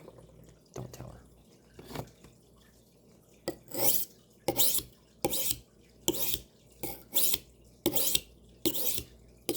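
Kitchen knife drawn across a sharpening stone in steady, evenly spaced rasping strokes, about eight broadband scrapes repeating roughly every 0.7 seconds, close and clear, with a few fainter scrapes at the start.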